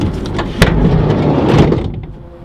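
The sliding cargo door on a 2018 Nissan NV200 SV van rolls shut, with a sharp latch clack early on, then a sustained rumbling slide that fades away, close and loud.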